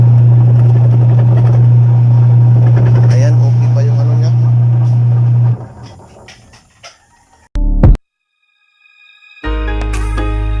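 A Sharp washing machine with dryer runs with a loud steady motor hum for several seconds, then cuts out, followed by clunks, a brief silence and the motor starting again.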